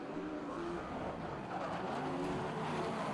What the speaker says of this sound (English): what action we've got here in this midget car feature race